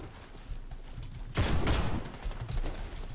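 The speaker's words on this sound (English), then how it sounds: "Because the beautiful power of these shotguns" Shotgun blasts in the video game Warface, a loud burst of overlapping shots around the middle over continuous low battle noise, with scattered softer gunfire following.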